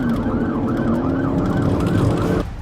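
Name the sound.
police car siren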